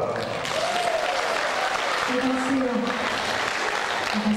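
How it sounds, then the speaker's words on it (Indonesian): An audience at a radio station concert applauds in dense, steady clapping that fills the whole stretch, loud and close, with a voice calling out over the crowd. "sekali lagi berikan tepukan hangat"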